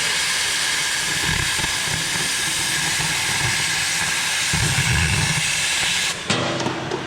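Oxyfuel cutting torch roaring in a continuous loud hiss while cutting metal, with a louder gusty stretch before an abrupt pop and change in tone near the end.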